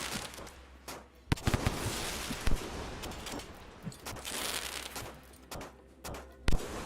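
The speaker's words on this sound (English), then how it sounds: "You can sometimes get lucky with a grenade and just take them all out instantly." Grenade blasts in Rain World crackle and pop in quick, sharp bursts, moderately loud and repeated over a dense hissing background.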